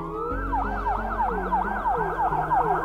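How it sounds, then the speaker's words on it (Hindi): A loud wailing police siren with rapid rising-and-falling sweeps, close and continuous, over a low rumbling engine. "तभी उन्हें पुलिस की आवाज सुनाई देती है जिसे सुनकर वे डर जाते हैं"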